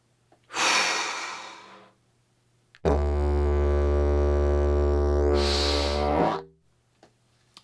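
A didgeridoo drones with a steady low tone for several seconds using circular breathing, preceded by a separate loud breath and ending with a breathy burst as the lips close.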